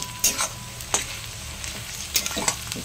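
Onions frying in a pan with a steady soft sizzle, broken by several sharp stirring scrapes of a utensil against the pan, close and fairly quiet, with no talking.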